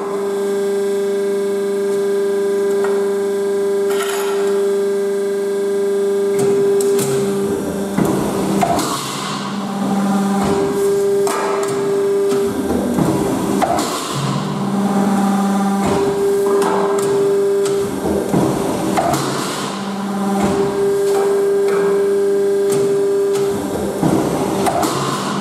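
A cutting machine slices aluminium plates into strips for a folding bellows passage on an off-road vehicle, a loud drone with a steady tonal hum broken by repeated grinding passes over about twenty-five seconds.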